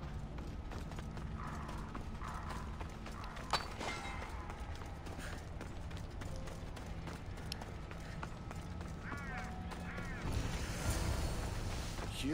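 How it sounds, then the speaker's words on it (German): Horse hooves clip-clop at a steady running pace in Assassin's Creed Odyssey, moderately close and continuous over game ambience, with a whinny-like call near the end. "Oh, ein Pferd."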